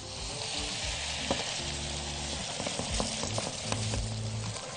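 A seafood mixture with added hot water bubbles and sizzles steadily in a pan, a continuous close cooking hiss with faint stirring clinks throughout.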